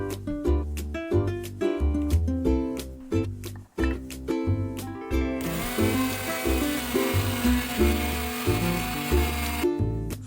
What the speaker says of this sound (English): grinding it with my trusty spice grinder